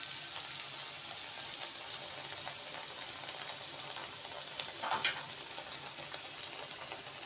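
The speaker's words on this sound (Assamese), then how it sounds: "এনেদৰে বেঙেনাকেইটো ফ্ৰাই কৰি লওঁ।" Brinjal frying in oil in a wok over a low gas flame, a constant fine crackling sizzle with scattered spits and pops, close and steady with no talk.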